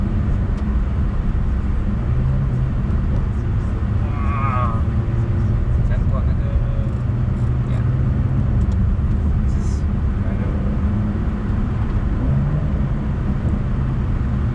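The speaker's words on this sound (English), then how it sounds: "you get that loud, burbling flat 6 engine" A loud, deep turbocharged flat-six engine of a 992 Porsche Carrera 4S burbles continuously with a rough, throaty rumble, holding steady throughout without pauses.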